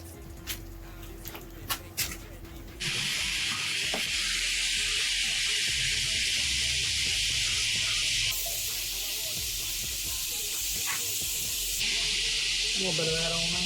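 Cheesesteak meat sears on a Blackstone griddle with a loud, steady hiss and sizzle that starts abruptly after a few quiet clinks and continues close and unbroken.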